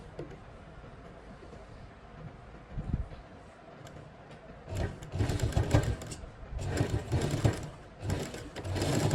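A sewing machine stitches lace onto the hem of palazzo trousers, quiet at first, then in bursts of fast whirring stitching that grow louder toward the end, with no speech.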